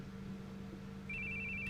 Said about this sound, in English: Where are you hearing a phone ringing?